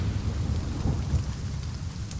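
Heavy rain hisses steadily over the Sichuan mountains while deep thunder rumbles low and continuous beneath it, with no voices.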